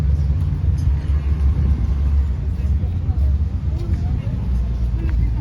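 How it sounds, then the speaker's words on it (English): Slow road traffic creeps past a construction site in Chapala Centro. Vehicle engines make a continuous low rumble at moderate distance, with faint voices murmuring in the background. "Traffic's flowing. It's going slow, but it's moving."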